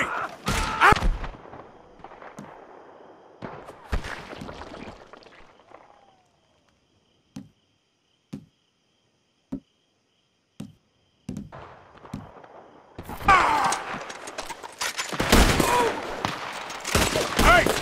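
Gunfire rings out in a Red Dead Redemption 2 shootout: loud clustered shots at the start, a near-silent stretch punctuated by single spaced shots, then an intense sustained volley with overlapping blasts, voices mixed in.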